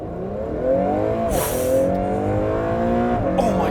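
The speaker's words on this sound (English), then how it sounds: "'22 Acura NSX Type S with launch control." A 2022 Acura NSX Type S with a 600-horsepower twin-turbo 3.5-litre engine accelerates hard on launch control, a steady engine roar climbing through gears with a brief gear-change blip, continuous from start to finish and heard from inside the car.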